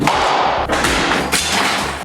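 Demolition during the remodel of a 1920 house in Phoenix's East Valley: heavy, close thuds and bangs follow each other in quick succession, with rattling debris between the blows.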